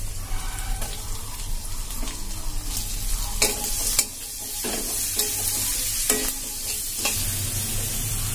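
Chopped onion sizzles steadily in a hot pan for a chicken keema ghugni, with a few sharp clinks of a spatula scraping and stirring over the continuous frying hiss.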